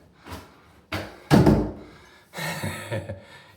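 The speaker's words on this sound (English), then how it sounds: "see if we can shut the door." A door being pushed shut upstairs in a new house gives a few close thumps and knocks in sequence, with one heavy impact near the middle and a rattling bump toward the end; no voices.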